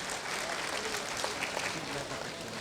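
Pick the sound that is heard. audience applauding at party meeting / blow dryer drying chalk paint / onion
audience applauding at party meeting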